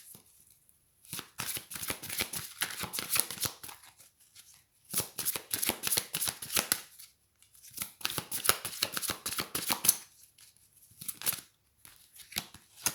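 Tarot cards being shuffled by hand in repeated bursts of quick riffling and slapping, with short pauses between bursts, close and fairly loud, with no talking.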